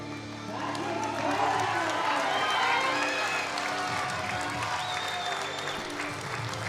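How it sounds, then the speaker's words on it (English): Spectators at a European Open sub-junior and junior equipped powerlifting championship shout and cheer continuously in a loud, sustained roar, with applause-like noise throughout and some voices yelling over it. "You hear the British yelling for their team."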